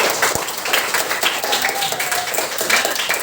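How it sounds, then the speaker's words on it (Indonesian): Classroom applause from students during a mathematics lesson, a steady wash of many hands clapping throughout, fairly close and continuous with no pauses. "Oke, kita beri aplaus dulu."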